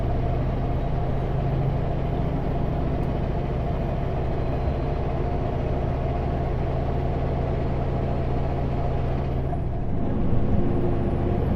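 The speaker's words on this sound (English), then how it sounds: "There's the brake check going down." A big truck with a square hood rolls downhill on a Canadian road, its engine holding a steady, loud rumble throughout; near the end the tone shifts briefly as the air brake is checked, with no talking.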